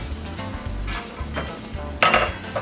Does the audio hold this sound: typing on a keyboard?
no